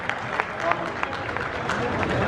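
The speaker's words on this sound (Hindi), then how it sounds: "कृपया श्री राम विचार पांडे जी के लिए एक बार जोरदार तालियां होनी चाहिए।" Gathering at Ballia railway station applauds a freedom fighter, with rhythmic, fairly regular clapping over a bed of crowd murmur and background voices, building slightly toward the end.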